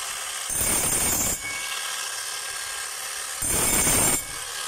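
A power tool being tested in hammer mode runs in two loud, broadband bursts of about a second each, separated by a steadier, quieter running noise.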